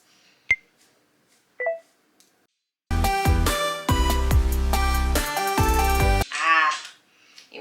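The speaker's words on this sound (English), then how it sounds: "So I'll hit the start countdown." Countdown timer in the TikTok app: a few sparse short electronic beeps, then a loud run of sustained bright tones and chimes, ending in a brief whooshing sweep.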